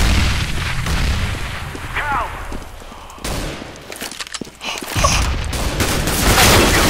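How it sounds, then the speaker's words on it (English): In a Counter-Strike: Global Offensive match, loud booming blasts and bursts of gunfire come in quick succession. A voice speaks briefly during the shooting. "Grenade out."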